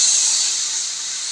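Broth poured into a hot pan with green chillies while cooking a fish curry with ridge gourd, a loud, steady steam hiss that eases only slightly as it goes on.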